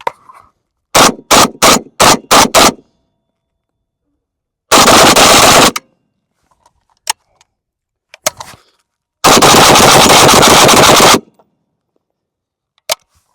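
A PSA AK-101 rifle fires 5.56x45mm rounds, first as a quick string of about six separate loud shots, then as two long sustained bursts of rapid fire, with silent gaps between them.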